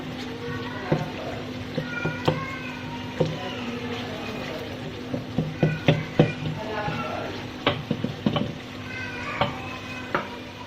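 Masala for turai with chana dal frying in oil and being stirred, soft sizzling under scattered scraping and clinking strokes of a spoon against the pan, irregular and moderately close, with no one speaking.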